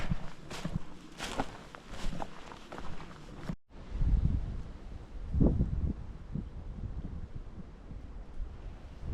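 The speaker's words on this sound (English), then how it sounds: "That was the wind blowing through here." Wind gusting through a Smoky Mountains forest trail at night, a rushing roar that swells and eases over several seconds with a brief sharp dropout, close and fairly loud against the microphone.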